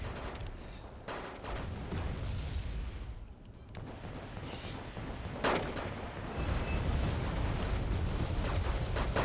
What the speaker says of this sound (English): BM-24 continuing to fire.